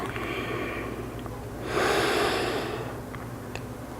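A person practicing yoga takes slow audible breaths, with a long soft exhale swelling in the middle and quieter breathing around it, close and without talk.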